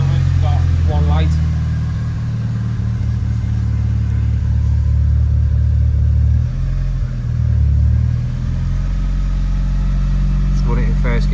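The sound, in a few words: car engine running during a road test drive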